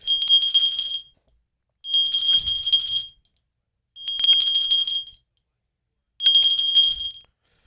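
A bell rung for new donors at a fundraising drive sounds four times, each a bright jingling peal about a second long, evenly spaced with short pauses between.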